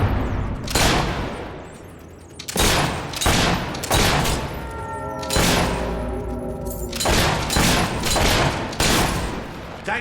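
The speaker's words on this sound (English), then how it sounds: "Keep up that shooting and we'll be rid of them in no time." Rapid bursts of gunfire ring out in a Fable 3 shootout, loud volleys separated by brief gaps, with a tonal in-game voice or effect briefly sounding between the shots.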